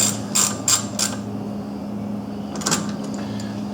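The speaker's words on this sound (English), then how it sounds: "Now we're going to be tightening up this hose clamp." A hose clamp is tightened on the carburetor of a Kawasaki Mule 3010 utility vehicle, giving a few close, sharp mechanical clicks and ratcheting bursts at the start, a quieter stretch, then another short clicking burst.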